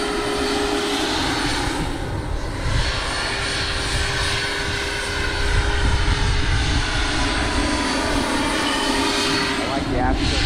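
An MD 600N radio-controlled model helicopter flies at night with a steady, sustained whine and hum, while a person talks over it throughout.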